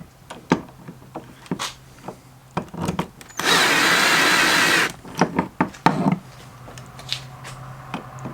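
A power drill whirs loudly for about a second and a half amid scattered knocks and clatter of handling parts, while installing a Kolpin mount.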